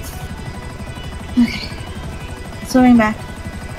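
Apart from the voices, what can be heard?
helicopter in the video game GTA Online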